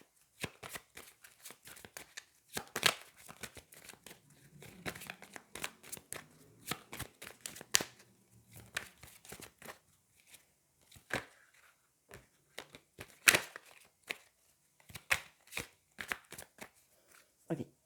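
Lenormand oracle cards being shuffled by hand, a long series of crisp riffling snaps and soft slides close up, with brief pauses between bursts.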